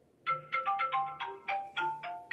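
A phone ringtone plays a bright, bouncy electronic melody of quick repeated notes, fairly loud and close, with no talking over it.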